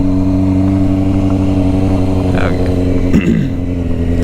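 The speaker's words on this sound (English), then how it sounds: "That exhaust sounds good against the ground though when you get that low." Close, loud exhaust of a motorcycle being built into a stunt bike, idling and blipping with steady engine harmonics and a couple of quick rev rises near the ground, continuous throughout.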